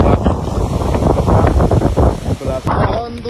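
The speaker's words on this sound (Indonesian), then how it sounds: "Angin kencang arah bendera." Strong wind blows hard against the microphone, a loud roaring rumble with gusty surges, mixed with someone talking.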